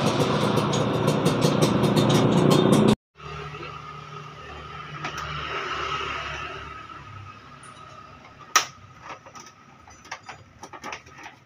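A Honda Vario 125 scooter engine, running without a battery, hums steadily up close, then cuts out briefly and restarts into a quieter idle with a few clicks and knocks.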